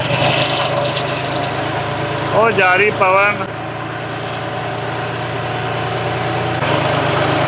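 A John Deere tractor with a plough hitched behind runs at a steady, low droning idle throughout, close and continuous, while a person talks over the engine.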